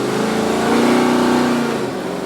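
A Buick Gran Sport's big-block engine, a race-option car without power steering or brakes, revs loudly and close up, the tone rising and holding before easing back down; no one talks.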